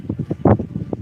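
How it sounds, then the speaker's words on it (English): Strong wind gusts of around 50 miles per hour buffet the microphone in short, rumbling bursts, with one louder thump in the middle, outdoors beside a desert skate park. "50-mile-an-hour gusts."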